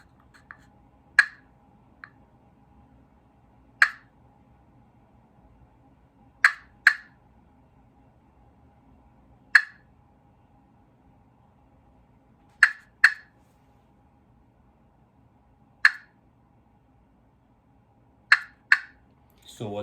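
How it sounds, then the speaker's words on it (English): Hand-operated turkey call for spring gobbler hunting produces single sharp clucks, about a dozen in all, spaced irregularly a second or more apart, some in quick pairs, each crisp and isolated against near silence. "Well, let's go with a cluck."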